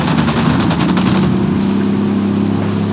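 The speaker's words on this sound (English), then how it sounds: "I'm opening fire on these shitheads" Sustained automatic gunfire in the video game Ghost Recon Wildlands, a fast loud rattle of shots for about two seconds that tapers off into a low engine-like drone.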